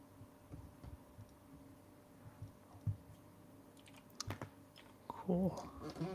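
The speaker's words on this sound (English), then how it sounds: "we can hear you type. Oh, you're hearing me type probably. My keyboard is loud." Scattered clicks of keys being typed on a loud computer keyboard, faint and intermittent, with a brief burst of voice near the end.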